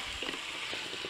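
A pork shoulder steak frying in a Ridgemonkey pan gives a steady, close hiss of sizzling fat, with faint soft shifts as the meat cooks, and no talk over it.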